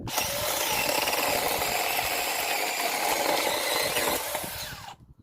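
A mini chainsaw with a freshly sharpened chain cuts steadily through wood, a loud, continuous whining buzz that runs unbroken for about five seconds before the engine winds down and stops.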